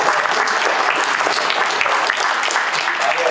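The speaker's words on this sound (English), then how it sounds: "Give a round of applause." A dinner crowd at a community unity dinner in Fremont, California breaks into dense, close applause, many hands clapping at once in an even, continuous wash.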